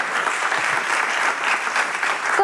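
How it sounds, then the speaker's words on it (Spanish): A hall audience gives steady, dense applause for teachers and educational institutions at an awards ceremony, a continuous even roar of clapping with no voices. "Un fuerte aplauso para los docentes e instituciones educativas de este tercer"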